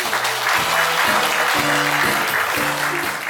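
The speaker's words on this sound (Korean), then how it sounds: "다시 한번 뜨거운 박수 부탁드립니다." A room full of guests at a celebration gathering in Haenam, Korea, applauds warmly and continuously, a dense clapping wash over faint low tonal background sound.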